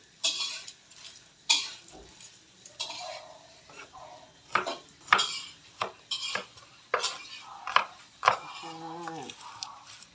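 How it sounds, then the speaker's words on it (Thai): A knife chops herbs on a board, preparing them for roasting for pla daek bong, a Thai fermented fish dip, in a kitchen. Irregular close taps and knocks come in clusters, joined by a few clinks of utensils. "เราก็จะมาซอย ซอยเพื่อเราจะไปคั่วนะคะพี่น้อง"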